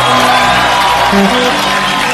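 A studio audience on a Kapil Sharma comedy show erupts in loud, dense cheering and applause, a continuous wall of crowd noise from start to finish.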